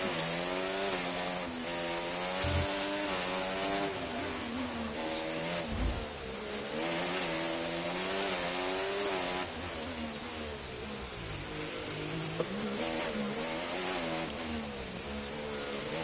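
A Formula 1 car's engine revs hard and continuously in F1 24 on the Monaco circuit, rising and falling through gear changes as it climbs up the hill on a flying lap with DRS open, loud and close with no talk.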